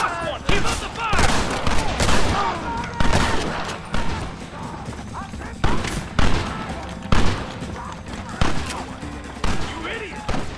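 Rapid gunfire rages in the Red Dead Redemption video game, loud dense volleys of overlapping shots and rifle cracks in a continuous fusillade, with shouting voices mixed in.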